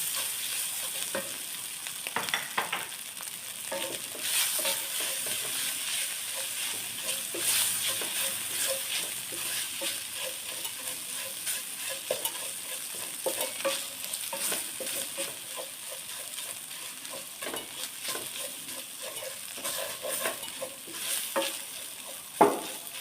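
Grated galangal stir-frying in hot oil in a pan, a steady close sizzle with scraping stirs running throughout, no talking.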